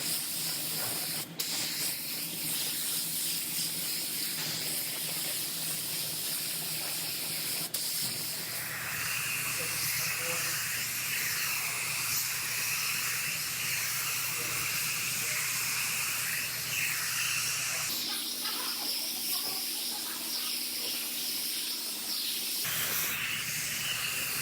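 A spray gun hisses out epoxy primer onto a Toyota RAV4 lift gate in long continuous passes, the steady spray broken by a few brief pauses and changes in tone.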